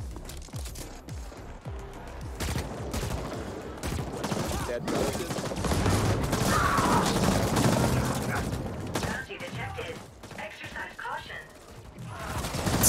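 Bursts of video game gunfire from a third-person shooter, dense and continuous over a steady game soundscape, with player voices talking over it.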